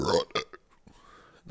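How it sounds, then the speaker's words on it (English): A loud, close human burp with a guttural, croaky quality, followed by a shorter second belch-like burst and a brief trailing sound, all within a second and a half. "Another burp."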